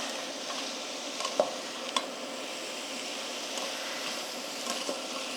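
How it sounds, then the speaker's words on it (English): Chopped vegetables sizzle in melted butter in a pan while a spoon stirs them, a steady close frying hiss broken by a few light scrapes and knocks. "scrape all that veg in. Stir it round so that the butter is coating"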